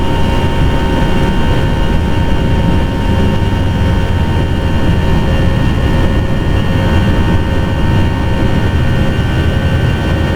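Airbus A320 jet climbing after takeoff in the Prepar3D flight simulator: a loud, steady engine roar with a constant whine fills the whole stretch, unbroken and close.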